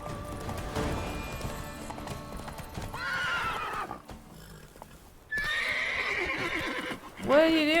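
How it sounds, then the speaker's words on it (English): Roach, a horse in The Witcher 3: Wild Hunt Blood and Wine, clops along on rhythmic hooves with loud whinnies and neighs rising near the end, while someone talks over the gameplay. "Come on, Roach."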